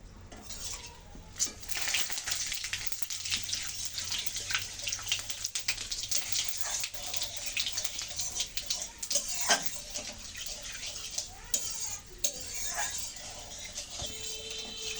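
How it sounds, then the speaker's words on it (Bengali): Bay leaves, dried chillies and cumin frying in oil, a soft continuous sizzle with scattered clinks and scrapes of a spoon against the pan and light kitchen clatter. "আমি এখন ফোড়ন দিয়ে দেব। তেজপাতা, দুটো তেজপাতা কেটে নিয়েছি, শুকনো লঙ্কা আর জিরা"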